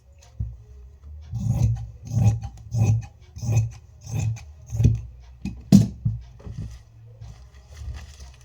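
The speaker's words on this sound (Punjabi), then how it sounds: "ਇਸ ਵਿੱਚੋਂ 7 ਇੰਚ ਦੀ ਜਿਹੜੀ ਆਪਣੀ ਬੈਲਟ ਆ ਉਹ ਕੱਟ ਕਰ ਲਵਾਂਗੇ" Scissors cut through folded suit fabric in a run of about ten rhythmic crunching snips, close and fairly loud, with no talking.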